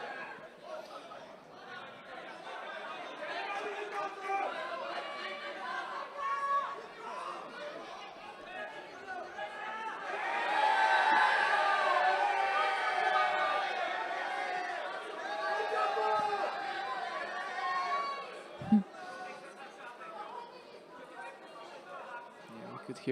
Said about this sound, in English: Could hear the crowd because Czech fighter is fighting down on mat 3, Antonin Dvoracek